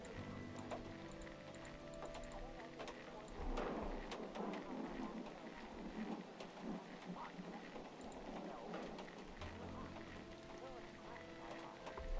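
Steady rain with rolling thunder in the detective adventure game Whispers of a Machine, a dense wash of rainfall with low rumbles swelling mid-clip, layered under game music and other ambient noise.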